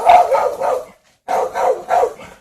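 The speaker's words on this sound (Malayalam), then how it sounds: "അവിടെ നിന്ന് കുരയ്ക്കുന്നുണ്ട് കേട്ടോ" A pet dog named Toga barks in two bursts of about three sharp, close barks each, separated by a short pause, with no talking.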